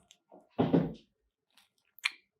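Several soft chewing and crunching bites on a warm keto Sicilian almond cookie, close and quiet, with short pauses between the bursts.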